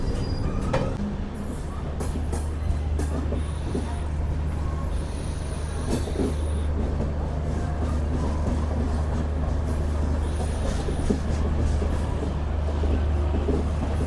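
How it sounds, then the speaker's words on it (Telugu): From inside the Prasanthi Nilayam Express with new LHB coaches, running on after Gooty Junction, a constant loud rumble and rattle of wheels carries on, with short high metallic squeals of wheels on rails recurring. "మన ట్రైన్ వచ్చేసి గుత్తి జంక్షన్ నుంచి అయితే బయలుదేరిపోయింది"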